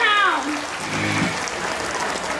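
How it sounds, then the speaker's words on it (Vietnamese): A crowd at a school reunion gathering in Vietnam breaks into steady applause after a voice and a tonal sound fade out, the clapping continuing as a dense, even wash. "Các bạn cùng nồng một tràng pháo tay thật lớn để chúc mừng chúng ta nào"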